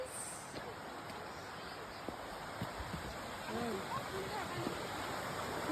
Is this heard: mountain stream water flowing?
yes